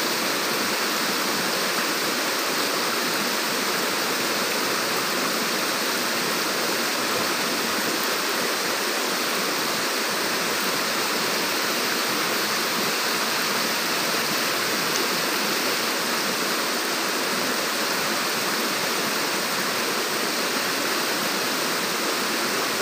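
Rushing water roars steadily and unbroken, a dense close stream with no voices or pauses.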